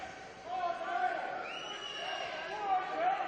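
A boxing arena crowd murmurs and rumbles before a super featherweight preliminary bout, a broad, distant hubbub of many voices heard beneath a commentator talking over it.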